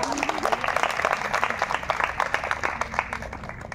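Audience applause at a church youth farewell ceremony, a steady wash of clapping from a crowd that holds at an even level for several seconds with no voices standing out.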